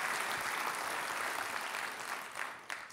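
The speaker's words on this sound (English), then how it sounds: "Let's give Laserfish a big round of applause for the work they're doing." Applause from the crowd at a civic community event, a faint wash of many hands clapping that holds steady and then tapers slightly toward the end, heard from a distance.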